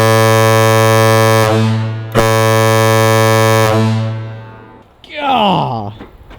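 A loud battleship-style air horn mounted on a Humvee blasts twice in long, steady, deep tones with a short gap between them, followed by a brief different sound.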